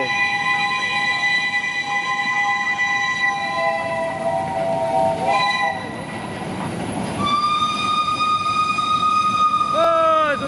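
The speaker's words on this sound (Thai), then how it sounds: "เสียงวีดลั่นมาแล้วครับ" A JNR Class CX50 steam locomotive whistle blows in long, loud harmonic blasts, pausing and sounding again, over rumbling rail noise with a squeal at the end, arriving at Bang Sue.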